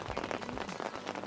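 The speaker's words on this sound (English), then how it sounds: "It's a rainy season. It rains all the time for no reason." Rain falls steadily on the slopes of Tangkuban Perahu volcano during the rainy season, a dense continuous patter close by and fairly soft, with no voices.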